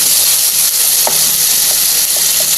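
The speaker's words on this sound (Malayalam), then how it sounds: "ഇനി അതിലേക്ക് ഒരു മുറി നാളികേരത്തിന്റെ രണ്ടാം പാലാണത് അത് കുറച്ചൊന്ന് ഒഴിച്ച് കൊടുക്കാം" Second coconut milk poured into a hot pan of cooked tomato and onion, a steady loud sizzle and frying hiss filling the whole stretch with a few soft stirring clicks and no voices.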